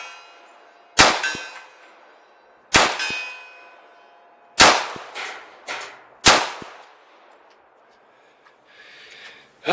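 Bullets from a military 1911 pistol hit a steel target 50 yards out, sharp metallic clangs with ringing tails, five strikes spaced unevenly, the later ones closer together, each standing out clearly against a quiet background.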